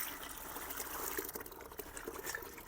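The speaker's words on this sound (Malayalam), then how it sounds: "അപ്പം ഒരു ദിവസത്തെ കഞ്ഞിവെള്ളം നമുക്കൊരു ബക്കറ്റിനകത്തോട്ട് ഒഴിക്കാം." Rice water (kanji water) is poured into a bucket, a soft, continuous trickle and splash heard faintly at close range with no speech.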